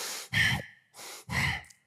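A man demonstrates audible breathing: two cycles of loud, breathy inhales and exhales, close and alone, with short pauses between.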